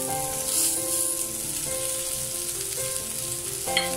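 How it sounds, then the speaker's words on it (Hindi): Chicken strips shallow frying in a pan over medium heat, giving a dense, continuous sizzle that stays loud and even throughout, with a faint scrape near the end. "तो इसी तरह से मैं अपनी सारी स्ट्रिप्स को शैलो फ्राई कर लूँगी।"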